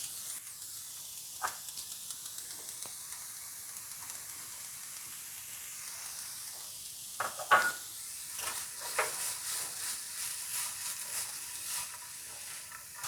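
Onion, cauliflower and capsicum cook in a pan for a vegetable Mughlai paratha filling, giving a soft, steady sizzle and hiss with occasional sharper scrapes and clinks of stirring, fairly quiet throughout.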